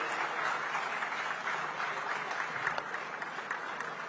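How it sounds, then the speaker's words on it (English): A large audience at an Odisha government session breaks into sustained applause, a dense, even wash of clapping that holds steady at full strength without letup. "Ladies and gentlemen, this is time for a big round of applause."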